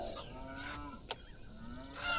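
Cows mooing on a farm in Farm Manager 2018, a couple of drawn-out low moos with a sharp click between them, fairly close and alone without talk.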